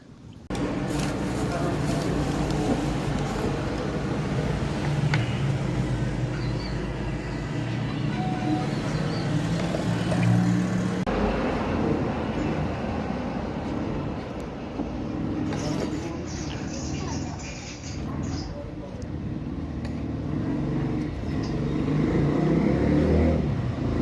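A road vehicle engine runs steadily and loudly nearby throughout, with a deep rumbling drone that shifts slightly in pitch, while people talk over it.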